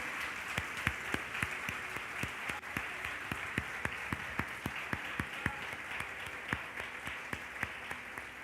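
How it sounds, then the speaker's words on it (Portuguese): Church congregation applauding during a sermon, a bed of crowd clapping with a few loud, evenly spaced nearby claps standing out in a steady rhythm, continuing for over eight seconds. "Jesus merece uma oferta de aplausos por isso ou não?"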